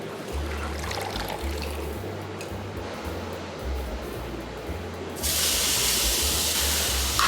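Pot of unsalted water coming to a rolling boil for blanching, a soft steady bubbling hiss under low rhythmic thumps, then a louder rushing pour as the contents are drained in the last couple of seconds.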